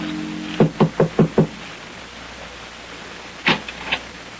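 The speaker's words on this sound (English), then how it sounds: "knocks at the door of number 16 Rue de Roche" Knocking at the door of a house on a Paris street in an old radio drama: five quick, evenly spaced raps close by, a pause, then a softer group of two or three knocks.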